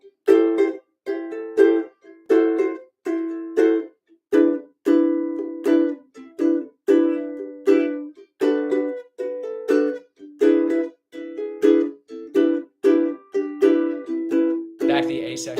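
Ukulele strumming a bossa nova etude bridge section, rhythmic short and long chord hits in a steady syncopated pattern, played alone and close.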